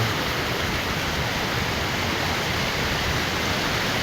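Loud, steady roar of a rain-swollen village river in flood, a dense continuous wash of noise with no breaks, flowing fast nearby.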